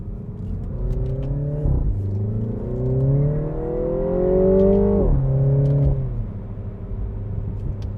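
A 2015 Mini Cooper S accelerates through the gears, its engine note rising in sweeps with brief drops at each shift, heard steadily from inside the car with no talk.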